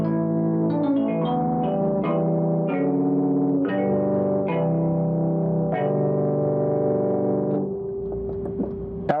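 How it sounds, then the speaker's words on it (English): A Hammond organ sample on an Ensoniq Mirage sampler plays a series of sustained chords with crisp attacks, close and loud, ending in a brief held tone and faint clatter. "L3 is that nice Hammond I had."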